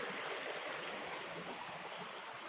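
A creek's water runs in a continuous soft rushing hiss, steady and fairly close, with no voices over it.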